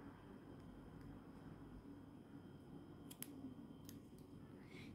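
Scissors snip through green yarn: a couple of faint, crisp clicks against a quiet, humming room.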